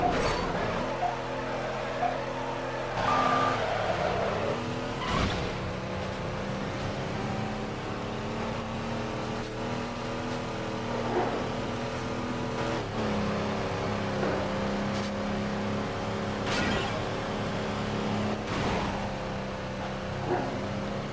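Racing-game engines drone and rev as a Mercedes, a Chevy and a Hummer compete in a wet-weather Atlanta SUV and truck race in Midnight Club 3: DUB Edition Remix. The sustained engine tones rise and fall with occasional sharp surges.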